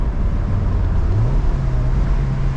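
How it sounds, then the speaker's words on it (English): Mazda Miata NC with a new stage 1 clutch and light flywheel, engine note rising steadily then settling into a steady drone, loud and close, heard from inside the car with road noise underneath. "Yeah, so I can go right to red line now, and it shifts perfectly."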